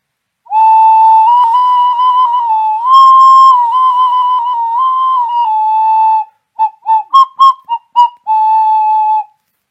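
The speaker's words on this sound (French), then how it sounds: "Là, c'est un sifflet un peu plus gros avec une chambre qui fait 95 mm de profondeur." Large wood-turned whistle with a 95 mm deep chamber, blown in a loud, pure, sustained tone with slight pitch shifts, then a run of short staccato toots and a final held note.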